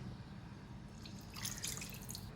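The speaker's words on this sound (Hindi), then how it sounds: "पानी डाल रही हूँ 1/4 कप इसमें," About a quarter cup of water poured into boiled dal in a pan for Punjabi dhaba-style dal fry, a short soft splash and trickle, close but quiet over a low background rumble.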